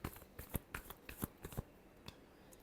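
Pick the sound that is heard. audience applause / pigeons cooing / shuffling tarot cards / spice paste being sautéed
shuffling tarot cards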